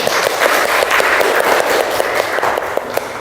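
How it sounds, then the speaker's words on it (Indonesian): Applause from a classroom audience of teacher trainees after a group presentation, dense and steady clapping filling the room for a few seconds without talk. "Beri tepuk tangannya."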